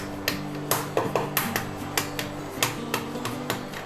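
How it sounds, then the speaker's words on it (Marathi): Eggs are tapped on a kitchen counter to crack their shells for an egg curry, giving about ten sharp, evenly spaced knocks close by over steady background music. "असं थोडंसं खाली ओट्यावर अंडी अशी टॅप करून घ्यायची"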